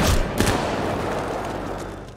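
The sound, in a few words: gunshot in an action film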